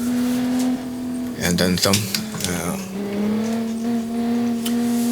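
An Automation-built Crown Model 17 car in BeamNG gives off a steady engine drone that rises and falls through a burst of revving in the middle, with someone talking over it.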